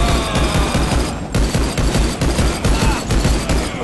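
Dual pistols in Rise of the Triad firing in rapid, rhythmic bursts, loud and close, a steady stream of overlapping shots pulsing roughly twice per second with no talk.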